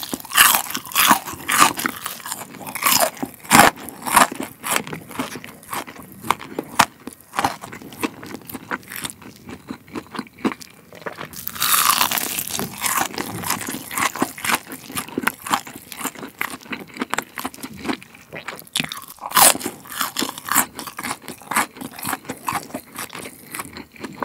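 Crispy fried chicken from 60 Gye Chicken, both the pepper variety and a crunchy soy-sauce version with a thick cutlet-like coating, is bitten and chewed close to the mic. Loud, sharp crunches repeat irregularly, and there is no talking.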